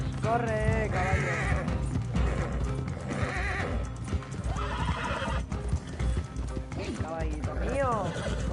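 Repeated loud whinnies and neighs ride over the rhythmic clip-clop of a horse galloping in Red Dead Redemption II online, the cries rising and falling several times while someone talks over them.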